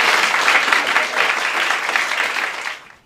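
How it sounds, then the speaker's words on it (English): A Boston flute-school celebration crowd gives a full round of applause, dense and steady clapping for about three seconds that cuts off quickly at the end. "So I just would like to give a great round of applause to my entire Flutistry Boston team"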